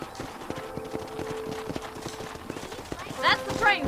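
Horse hooves clip-clopping in the Red Dead Redemption video game, a steady near rhythm of hoofbeats under someone talking, with brief game music or effects near the end.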